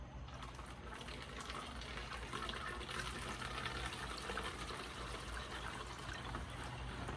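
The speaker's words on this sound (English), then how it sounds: "I'm going to try my best to pour some gas down there at the same time, and you should see the fuel flowing" Gasoline pours steadily through a fuel filter, a continuous close trickling and gushing of liquid lasting several seconds without pause.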